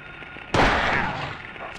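A single sharp gunshot blast from a shotgun or handgun in the PS1 horror game Silent Hill, sudden and loud, with a long ringing decay and a faint second report near the end.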